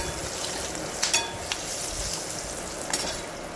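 Tempering seeds for Andhra wood apple chutney fry in hot oil with a steady close sizzle, punctuated by a few sharp pops spaced out over a few seconds.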